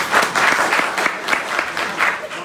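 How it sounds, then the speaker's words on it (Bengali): Audience applause at an entrepreneurs' conference in Rangpur division fills the hall, a dense steady clatter of many hands with rhythmic swells, close and loud throughout. "তাদের জন্য একটা জোরে হাততালি"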